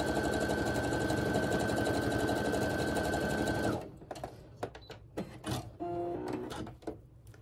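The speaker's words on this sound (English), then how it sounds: "And I'm going to sew those two together." A sewing machine runs steadily as it stitches two quilt pieces together, a loud continuous mechanical whir that stops after about four seconds, followed by quieter handling clicks and rustles of fabric.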